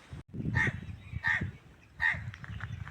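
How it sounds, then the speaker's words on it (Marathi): Birds call near a quiet seaside lighthouse area, three loud raspy caws spaced about a second apart over a low background rush of wind and water. "पक्षी, वारा आणि पाणी, तीनच आवाज आहेत"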